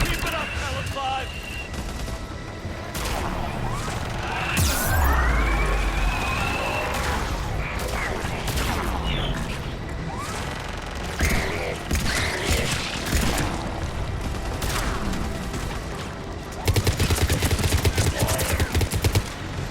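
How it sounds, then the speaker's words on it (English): Missile salvo launches and rapid gunfire in a Mass Effect 3 battle over Thessia, a sustained mix of whooshing launches, booms and chattering shots with radio voices talking over them. "Firing another salvo."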